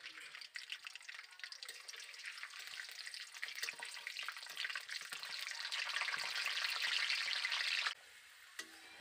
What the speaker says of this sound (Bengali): এবার দিয়ে দেব বাদামগুলো। বাদামগুলো আমি ভালোভাবে ভেজে নেব।